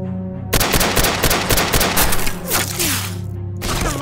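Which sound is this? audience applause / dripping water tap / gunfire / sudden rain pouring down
gunfire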